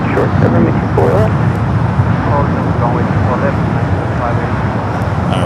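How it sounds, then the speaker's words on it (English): Boeing 777 airliner taxiing at LAX, a steady broad engine rumble and whine mixed with airport and traffic noise throughout, with people chatting over it. "All right, we'll see that 777 head over here."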